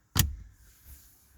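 A car heard through a phone microphone: one sharp close thump like a door shutting, followed by a low fading rumble and quiet room tone, with no one speaking.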